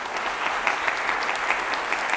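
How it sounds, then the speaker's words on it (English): A church congregation claps steadily during a traditional Sunday morning worship service, a dense, even patter of many hands at moderate volume with no talk over it. "let's give a round of applause and give God some praise this morning"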